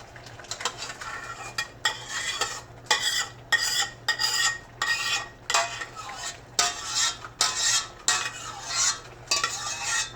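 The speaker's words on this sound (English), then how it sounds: "Stir it up just a little bit more as I'm doing this" Chicken and penne are stirred in a pan in a run of rhythmic scraping sweeps, each a short burst of utensil scraping with a soft sizzle beneath, repeated about a dozen times and heard up close without speech.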